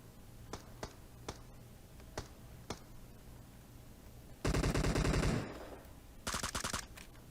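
PUBG Mobile gunfire: scattered single distant shots crack at irregular intervals, then two loud, close bursts of rapid automatic fire, the first about a second long and the second shorter.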